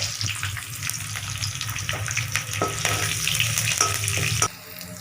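Curry leaves and crushed garlic sizzle steadily in a hot pan of oil, a continuous loud crackling hiss with small pops, easing off slightly in the final half second.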